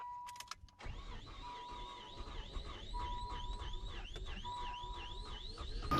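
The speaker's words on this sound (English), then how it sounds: "That is one of the saddest starts of a 626 I've heard in a while." A Mazda 626 with a suspected head gasket fault, engine light on and running hot, cranks slowly and labouredly in a repeating wavering rhythm after a few short clicks and chimes.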